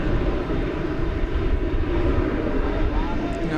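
An American Airlines plane on the runway at DFW airport makes a loud, steady engine roar that fills the scene, with a voice talking faintly beneath it.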